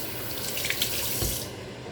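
Water runs from a kitchen tap onto a pot lid being washed, a steady close splashing rush that cuts off abruptly partway through, leaving quiet.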